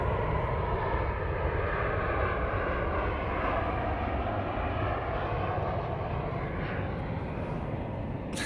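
A propeller airplane drones overhead, a steady, broad engine rumble that stays loud and constant throughout without any voices.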